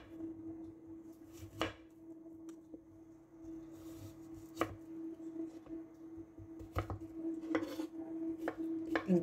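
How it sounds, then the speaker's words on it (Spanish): A knife cuts plantain into small cubes on a board, faint, sharp knocks coming in an irregular rhythm that grows busier toward the end over a low, steady background hum. "Voy a estar picando el plátano."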